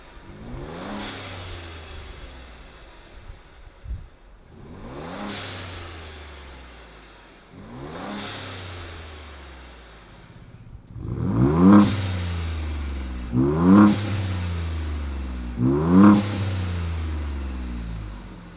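A Ford Bronco 2.7L with an AWE Tuning aftermarket exhaust revs several times from about 10 feet away, rising and falling in repeated bursts, the later revs louder and sharper with a rumbling exhaust tone.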